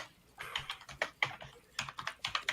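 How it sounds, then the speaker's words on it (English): Loud, close computer keyboard typing: rapid clusters of sharp key clicks come in uneven bursts with short pauses between, with no voices. "Someone's typing really loud."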